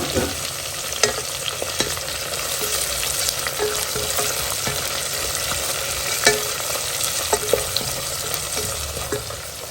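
Chopped tomato and fresh green peas fry in a hot pan with a continuous close sizzle, punctuated by frequent small pops and crackles and occasional stirring clicks.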